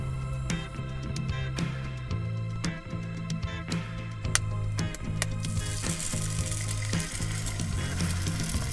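Garlic butter sizzles steadily in a pan on a portable single-burner camping stove during car camping, a continuous close crackling hiss with sharp pops and a low steady burner hum beneath.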